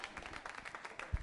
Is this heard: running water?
no